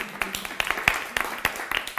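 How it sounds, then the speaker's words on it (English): Scattered audience clapping for a volunteer at a talk on depression and burnout, a thin, fairly quiet patter of separate hand claps rather than a full ovation. "Please applaud our volunteer."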